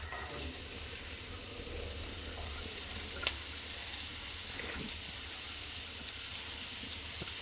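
Chopped onion dropped into hot oil in the pan used to fry paneer for paneer butter masala, giving a steady, soft, close sizzling hiss that runs throughout with no talking.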